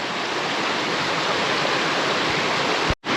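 Irish Brook Falls, a two-tier cascade on a brook near Gabarus, rushes as a steady, loud, broadband roar of falling water that continues throughout before cutting off abruptly near the end.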